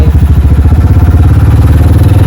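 A motorcycle engine runs loud and near with a steady, rapid throbbing pulse and some mechanical clatter, holding an even idle-like beat with no break.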